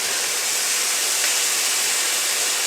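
Thin steak sheets for a Philly cheesesteak dip sizzle steadily in a hot pan, a continuous close hiss that holds evenly throughout with no voices.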